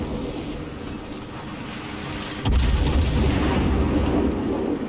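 Heavy secondary gun salvos from the battleship Yamato in World of Warships, booming in a dense, rumbling barrage that swells louder midway and keeps pounding without any voices.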